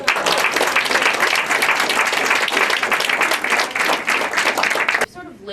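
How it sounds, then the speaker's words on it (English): A gala crowd in New York fills the room with loud, sustained applause that holds strong for about five seconds, then cuts off abruptly into a quieter background. "Please give all these incredible women a round of applause."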